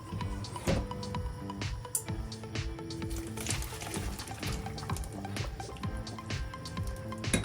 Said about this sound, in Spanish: Nuestra cáscara de naranja ya está lista. La vamos a colar, no vamos a usar esta agua para nada.